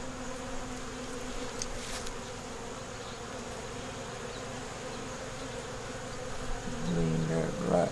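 Honey bees hum steadily inside a hive while repairing wax moth damage, a dense continuous buzz with a brief louder flutter near the end and no talking.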